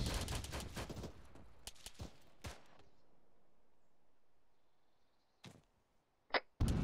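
Scattered gunfire in the Arma military video game: sharp cracks and short bursts crowd the opening seconds, then a quiet lull and a few isolated shots near the end, heard from a middle distance.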